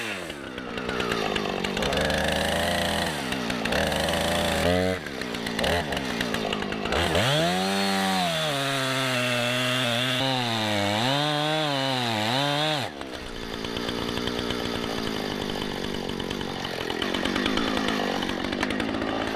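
A chainsaw runs loud and close, its engine revving up and settling in uneven surges, while logs are handled with a Kubota tractor and grapple in muddy ground.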